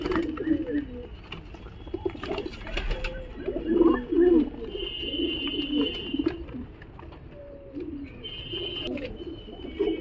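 Giribaz and Madras pigeons coo in soft, repeated throaty bursts at close range amid a busy pet market, with faint background chatter and scattered chirps around them.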